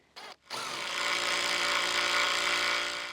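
A power drill bores holes for eye hooks in a board for a swing: a brief start, a short pause, then a steady, loud, close whir running continuously to the end.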